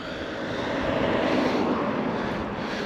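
A DYU D3F mini folding e-bike being ridden, heard as a steady, fairly loud broadband rushing drone, likely wind and motor, with no talk.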